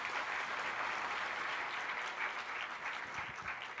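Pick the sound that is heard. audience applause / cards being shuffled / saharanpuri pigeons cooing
audience applause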